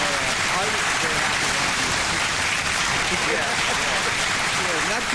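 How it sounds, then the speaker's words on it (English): A studio audience on a talk show applauds a guest with dense, steady clapping that stays loud and even throughout, like a continuous hiss of hands. "we do want to give you a good round of applause there"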